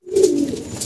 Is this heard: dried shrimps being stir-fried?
no